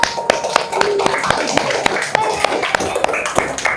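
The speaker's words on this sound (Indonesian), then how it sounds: "tepuk tangan untuk kelompok 2" Classroom students clap for a group during a maths lesson, giving sharp, uneven claps from a small group close by over a room-noise background.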